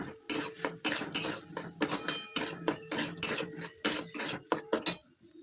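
A spoon scrapes and clinks against a metal pot while turmeric is stirred into cooking dal, a close, busy run of rapid metallic knocks and scrapes with short pauses, no voices.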